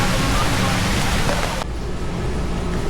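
Heavy rain pours down during a storm in Boracay, a loud, dense, unbroken roar of falling water that softens slightly partway through but never lets up.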